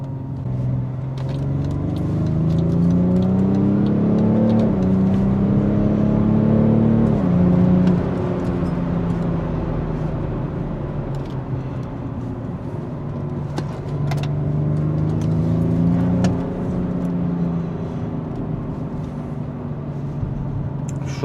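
A BMW X5 M50d (F15) SUV with a triple-turbo diesel engine accelerating, its engine note rising through the gears with a strong close rumble and whir that climbs, drops at shifts and climbs again.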